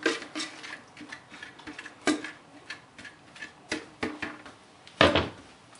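Utensils clink and scrape against a pan in irregular taps as zucchini spaghetti is folded into sauce, with a louder clatter near the end.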